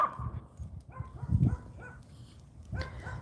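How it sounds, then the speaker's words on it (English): A pet puppy dog gives a few short barks and whimpering yips during a suburban gardening livestream, close and moderately loud, with quiet gaps between the sounds. "Glad you like our puppy dog."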